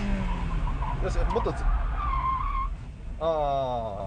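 A front-wheel-drive car brakes hard and its rear slides out, its tires squealing in a rising, wavering screech over engine noise, while people talk over it inside the car.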